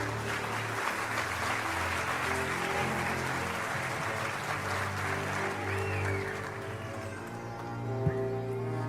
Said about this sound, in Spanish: con un aplauso alaben a Dios